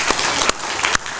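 A church congregation breaks into brief applause, a dense, loud burst of clapping with a few sharper claps standing out.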